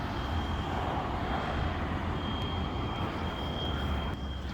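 A fire alarm sounds in an abandoned school: a thin, steady high-pitched tone holds unbroken through the whole stretch over a dense rumbling background wash.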